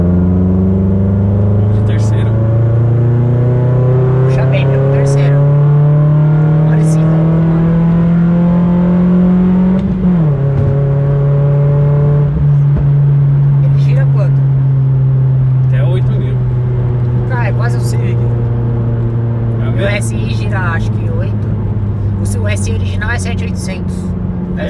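A Mitsubishi Lancer with a manual gearbox accelerates hard, its engine note climbing steadily before dropping at a gear change and climbing again, loud and close inside the car while people talk over it.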